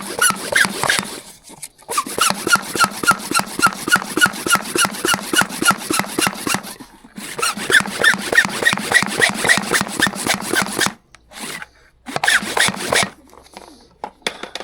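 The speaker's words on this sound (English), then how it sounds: "This is my little Hilti puffer." A small Hilti hand blower puffs air out of a drilled hole, producing rapid rhythmic squeaky wheezing pumps in long runs of strokes broken by a few short pauses, close and loud.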